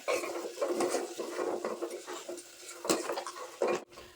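Fried khasta goja being dropped into sugar syrup in a pot and stirred, with wet clinks, patter and scraping against the metal, close and fairly steady with no talk.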